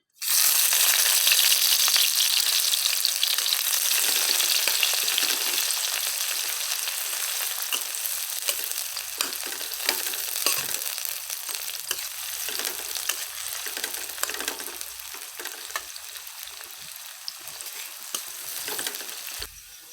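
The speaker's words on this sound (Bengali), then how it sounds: "তেল আমার গরম হয়ে গেছে প্রথমে পেঁয়াজ দিয়ে দিলাম" Onions drop into hot oil and hiss loudly at first, then settle into a continuous crackling sizzle that lasts the whole stretch, with scattered pops and stirring sounds.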